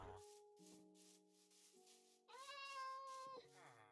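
A Minecraft video game cat meows over soft, tonal background music, with a clear drawn-out mew rising near the end, fairly close but quiet.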